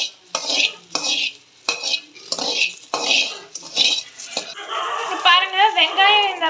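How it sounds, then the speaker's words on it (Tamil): Onions are sautéed in a pan for veg lollipops, with a spatula making repeated scraping strokes against the metal before a soft sizzle takes over. "அதில் வந்து வெங்காயத்தை ஆட் பண்ணிக்கலாம். இப்போ இதை நல்லா வதக்கிக்கலாம்."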